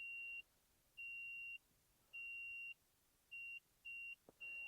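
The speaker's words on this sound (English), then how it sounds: "hopefully you'll be able to hear this very loud beeping it's making at the moment" Loud electronic beeping in repeated tones, long beeps slowing into shorter, quicker ones, with a quiet background and no talking.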